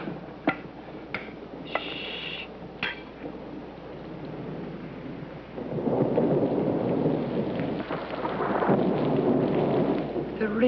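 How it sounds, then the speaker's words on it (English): Steady rain falls in a continuous hiss with no wind, joined by a few sharp cracks early on and a deeper rumbling swell of thunder that rises and holds in the later half. "The rain."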